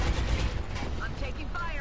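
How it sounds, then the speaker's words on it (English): Steady gunfire from the video game XCOM: Long War, a dense, continuous rattle of shots with a few short electronic chirps, loud and unbroken for the whole moment. "I'm taking heavy fire over here."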